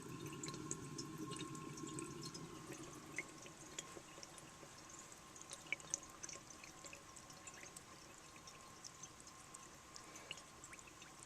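A 1936 Standard Modernus toilet tank fills with water, a smooth pouring hiss with a steady tone, stronger at first then settling into a quieter flow with scattered drips.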